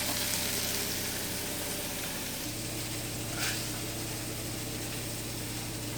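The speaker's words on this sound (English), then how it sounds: "We've got the burgers frying nicely, and we've got the Bhajis just done now." Beef burgers and onion bhajis fry in hot oil, a continuous close hiss with a low hum beneath and one brief louder spit partway through.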